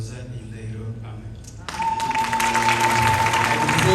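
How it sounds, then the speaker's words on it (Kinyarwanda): A wedding congregation in church bursts into loud applause after quieter moments with a voice and soft music, the clapping swelling in and holding steady over a sustained keyboard tone. "Neza nikomera amashyi wumve Immaculée irasamaza."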